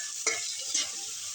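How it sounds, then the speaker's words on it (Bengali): Onions sizzle steadily in hot oil in a pan, with two short scraping stirs cutting through the continuous close hiss. "ভাজা ভাজা করবো, একটু লাল লাল করবো।"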